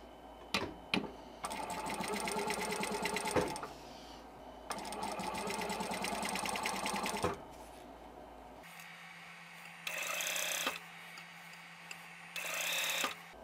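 A sewing machine stitches a rolled hem on chiffon in several close, steady runs of fast rhythmic whirring, separated by short pauses, with a clunk or two between runs.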